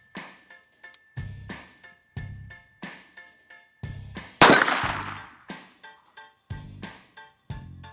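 .22 Magnum rifle fired at 2-liter bottles outdoors: a steady run of sharp, short cracks, with one louder, noisier burst partway through.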